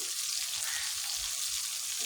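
Fish sizzles steadily in a hot pan, a continuous close hiss of frying oil with no talk over it.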